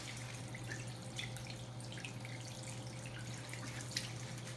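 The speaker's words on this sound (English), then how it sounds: "So now she's rinsing her hands off and making sure she has all the soap off." Tap water runs steadily while soapy hands are rinsed at a sink, a faint continuous trickle with soft splashes and drips over a low background hum, with no talking.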